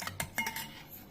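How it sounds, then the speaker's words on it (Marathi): A fork or spoon beats eggs in a small bowl for an egg omelette, giving a few quick, close metallic clinks and scrapes against the bowl's side, with no talk. "तर आपण आता अंडे फेटून घेऊ।"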